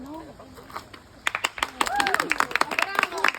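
Scattered clapping from a crowd at the Lottemaa theme park in Estonia, starting after a moment of talk and building into uneven bursts of hands with voices mixed in.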